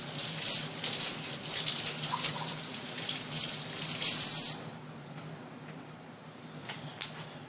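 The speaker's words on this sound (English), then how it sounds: "You can wet it with a sprayer." A spray bottle wets a piece of leather for a feather craft project, giving a steady hissing mist that runs for several seconds before trailing off. A sharp click follows near the end.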